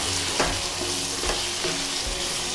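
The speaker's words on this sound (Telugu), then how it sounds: "దీన్ని ఇదే విధంగా ఒక్క నిమిషం కలుపుకోవాలండి మంచిగా" Eggplant and tomato curry sizzles steadily in a pan as it is stirred, with a continuous frying hiss broken by a few soft scraping strokes and no talking.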